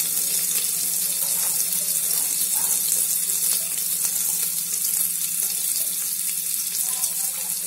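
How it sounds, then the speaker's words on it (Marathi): Sliced onion and green chilies fry in ghee for ghee rice, producing a constant, close, rushing sizzle that stays even throughout with no talk. "मिरच्या चांगल्या झाल्या की यात आता बारीक चिरलेला उभा कांदा टाकायचा।"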